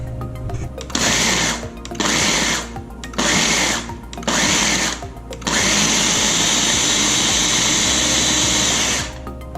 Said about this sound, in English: we're going to go ahead and blend this up so we get kind of a like an oat flour consistency